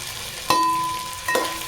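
Ginger garlic paste mixed with turmeric and salt fries in a pan, giving a steady close sizzle broken by two short clinks of a utensil against the pan.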